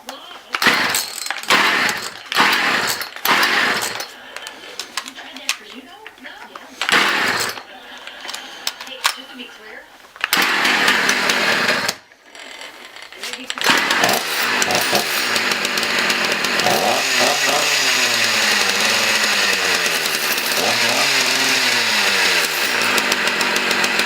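An Echo CS 330T chainsaw with a newly replaced carburetor sputters through several short pull-start attempts, then catches and runs loudly and steadily up close, its engine note rising and falling as the throttle is worked.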